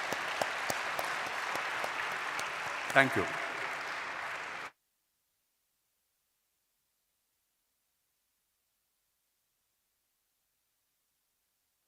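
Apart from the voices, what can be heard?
audience applause at awards ceremony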